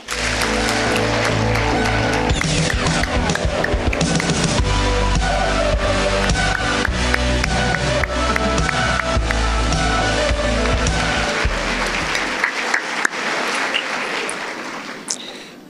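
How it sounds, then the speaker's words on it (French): An audience at the final evening of a pleading competition gives a long thunderous ovation for a juror, sustained loud clapping with music-like tones underneath that fades toward the end. "Je vous demande un tonnerre d'applaudissements pour monsieur Paul Camous"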